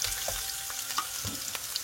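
Carrots sautéing in a pan for a beef and vegetable stir-fry, giving a steady close sizzle with a few soft stirring scrapes throughout and no voices.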